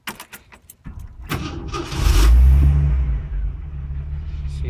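A 1984 Jeep CJ-8 Scrambler with a 4.2 liter 258 inline six is started up close: a few clicks and rattles, then the starter cranks and the engine catches into a loud, steady rumbling idle, with no talking.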